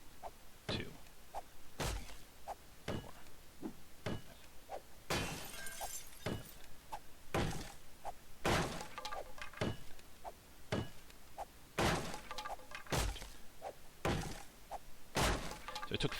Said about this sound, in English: I'm going to see how many hits it takes to get through this reinforced wood with the fire axe